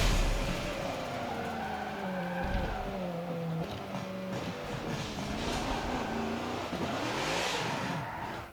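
A race car in the video game Forza Motorsport 7 skids and spins out, tires squealing in long wavering tones over a steady engine drone, loud and continuous with no talk.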